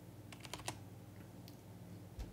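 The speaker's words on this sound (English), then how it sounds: "my keyboard just makes a lot of noise" A noisy computer keyboard gives a few quick clustered keystrokes, then a lone later click, faint under a steady low hum.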